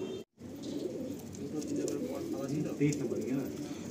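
Pigeons in a loft of Andhra breed birds make soft, continuous cooing and rustling across the whole stretch, fairly close, with a brief dropout near the start.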